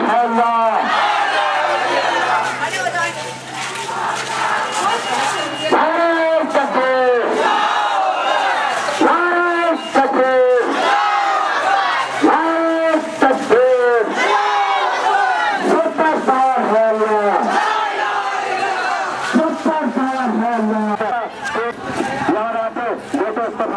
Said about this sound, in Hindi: ये रैली निकाली गई है